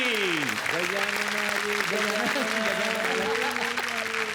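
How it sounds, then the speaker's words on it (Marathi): A television comedy show audience gives loud applause to welcome Manmeet, the clapping running steadily throughout while music with a sliding tone plays and a voice carries over it. "जोरदार टाळ्या मनमीतसाठी."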